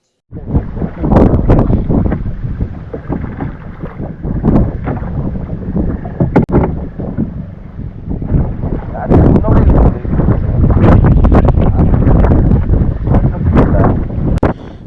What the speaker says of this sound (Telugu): ఇక్కడ నుంచి వీడియో కాస్త క్లియర్గా ఉండకపోవచ్చు ఎందుకంటే బాగా గాలి ఎక్కువ ఉంది